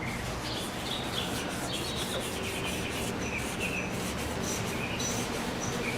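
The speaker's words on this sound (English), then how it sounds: "Give a nice rubbing motion back and forth." Steady back-and-forth rubbing of a cloth over a Les Paul guitar during cleaning, a continuous soft scrubbing hiss with a faint rhythmic swish, close and alone without talk.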